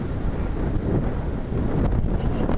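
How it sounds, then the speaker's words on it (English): Wind buffeting a microphone during a small aircraft flight, a dense low rumbling rush that holds steady throughout, close and loud with no voices. "Wind's pretty good."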